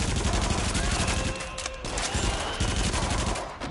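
Rapid gunfire in a PS4 shooter game, a dense, loud, continuous burst of shots that barely pauses, with a short lull midway before resuming.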